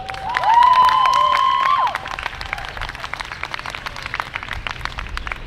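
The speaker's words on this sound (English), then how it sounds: "give me a big round of applause for Ma'an, Pa'ipaili Makako." An audience at a Hawaii for Palestine gathering lets out a loud, drawn-out cheer, then settles into dense, steady applause that fills the rest of the room.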